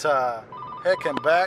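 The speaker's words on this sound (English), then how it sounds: "And that was a quick recess for a phone call." A telephone rings in short electronic bursts, mixed in with and partly under a man's speech heard over a phone loudspeaker from inside a car.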